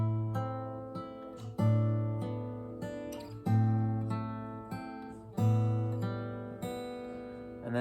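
An acoustic guitar plays a section of a tune, picked notes ringing over a repeating low bass pattern in even phrases, close and clear, with no talking.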